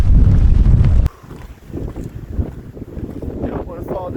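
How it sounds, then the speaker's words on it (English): Strong gusts on a mountain trail near San Jacinto buffet the microphone with a heavy low roar that suddenly drops off, leaving softer rushing wind and footsteps in the stretch that follows. "It's really freaking windy"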